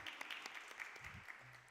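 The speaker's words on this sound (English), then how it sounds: "Applause to you." Light applause from a workshop audience at an interdisciplinary FinTech research event, soft, scattered claps continuing steadily for a moment at modest volume in a room.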